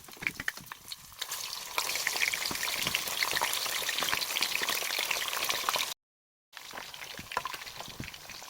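Pieces of guinea fowl frying in hot oil, a steady dense sizzle with crackling pops throughout, briefly cut to silence before resuming.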